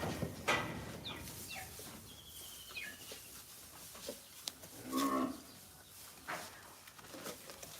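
Cattle moo in a single low, drawn-out call, heard faint and at a distance outdoors, with light bird chatter and scattered rustling around it.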